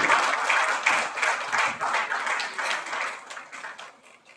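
Audience at a Tamil film title launch event applauds to welcome the lead actor to the stage: a dense wash of clapping that holds steady, then gradually thins and fades.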